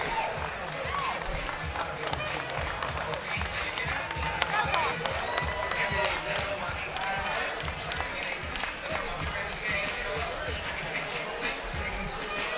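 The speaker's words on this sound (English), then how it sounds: "And the crowd goes wild for the favorite" Fight-event crowd roaring and cheering for the winning favorite after a TKO, a dense, steady wall of noise with scattered claps and shouts, loud throughout the whole stretch.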